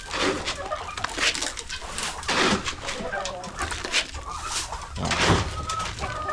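Chicks peeping and clucking around a backyard feeding, soft and busy with brief fowl calls scattered throughout, while someone talks over them.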